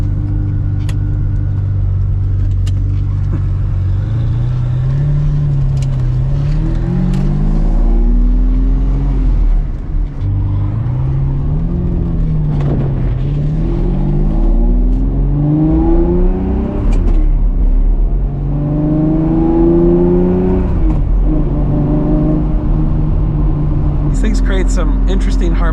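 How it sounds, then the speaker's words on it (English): A 1987 Ferrari Testarossa on the move, its engine and exhaust droning loud and close while the revs rise and fall through several gear changes, a transmission whine riding over the rumble. "One thing that's cool is it has this transmission whine that's actually pretty neat"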